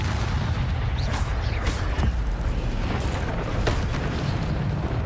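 Spells cast in the video game Hogwarts Legacy produce dense, booming magical bursts. A fiery whoosh and a pulling effect crackle over a continuous loud rumble, with several sharp hits in quick succession.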